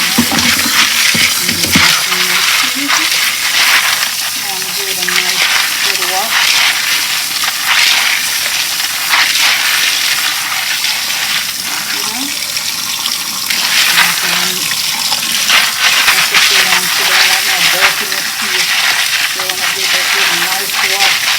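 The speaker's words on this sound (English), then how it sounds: "So I like to wash my" Dried peas for stew peas being washed in a pasta bowl under running water, with a steady, fairly loud rush and swish of water that continues throughout without talk.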